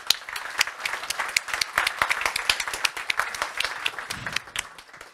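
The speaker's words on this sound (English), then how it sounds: "And another applause." A round of audience applause at a youth summit award event, dense clapping with sharp individual claps standing out, tapering slightly toward the end.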